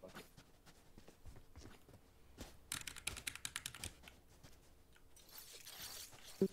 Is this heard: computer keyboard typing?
yes